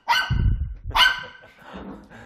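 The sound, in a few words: dog barking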